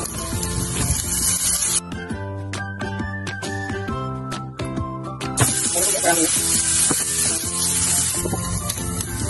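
Onion and Spam frying in a pan for kimchi fried rice, giving a loud, steady sizzle with scraping and clinking from the spatula running throughout.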